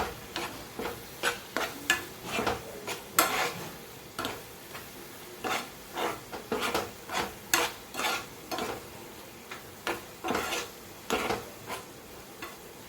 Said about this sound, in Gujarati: સરસ બધું આપણે મિક્સ કરી દઈએ.